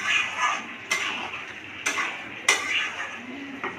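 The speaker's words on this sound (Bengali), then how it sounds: "আমি ভালো করে আবার এটাকে মিশিয়ে দিচ্ছি" A spoon scrapes and knocks against a pan as chicken korma with kasuri methi is stirred, four distinct metallic clinks over a steady scraping hiss, close up.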